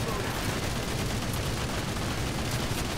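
Dense, unbroken gunfire fills a World War Heroes video game battle, a loud continuous roar of rapid shots with voices faintly mixed in beneath.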